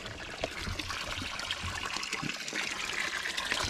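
Spring water bubbling up from the ground at a natural spring in the Philippines, a steady close trickling and gurgling with no talk.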